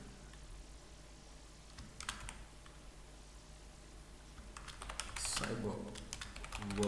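Computer keyboard typed on during a cybersecurity bootcamp lesson, giving scattered, irregular key clicks in short bursts, fairly close but soft, with a denser flurry of keystrokes near the end and faint talking in the background.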